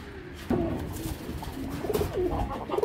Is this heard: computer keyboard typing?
no